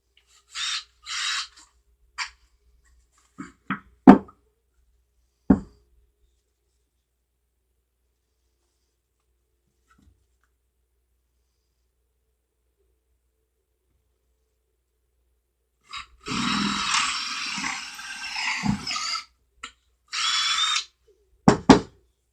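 Short bursts of a hand drill whirring, a few brief grinding spurts, then a longer drilling run with pauses and a final burst, close by with no talk.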